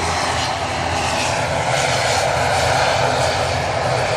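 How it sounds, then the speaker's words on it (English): Airbus A330 jet engines of an Air Transat airliner at Manchester Airport, a loud steady broadband roar that swells slightly midway and holds for about four seconds with no voices. "Air Transat's an A330 today"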